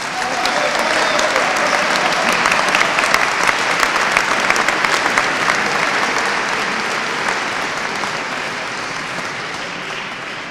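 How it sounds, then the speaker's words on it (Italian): Concert audience at a 2012 Christmas concert in Ponte Lambro applauds a trumpet soloist, dense sustained clapping that swells early and slowly thins out toward the end. "per cui vi chiedo un altro applauso."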